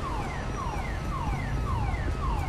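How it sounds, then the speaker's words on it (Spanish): A car alarm in GTA V with the LSPD:FR police mod wails in a steady loop of falling sweeps, about five repeats over a constant loud backdrop, with no one talking. "Que alguien apague la puta alarma, tío."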